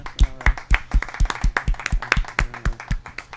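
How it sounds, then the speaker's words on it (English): Sparse applause at a small literary reading event, a few hands clapping in a loose, fairly even rhythm, close and distinct rather than a crowd roar. "Let's give them another round of applause, audience."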